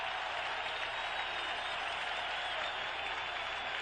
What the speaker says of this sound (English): The Packer crowd on its feet applauding the Green Bay defense.